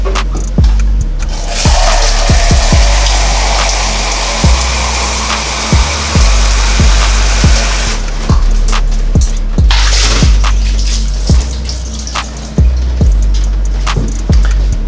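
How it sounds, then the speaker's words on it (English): Water from a cup thrown against hotel shower walls, a series of sharp splashes at irregular intervals over a running hiss of water, close and loud. "Good way to do that is use a cup, fill it with some water, splash them against the walls of the shower"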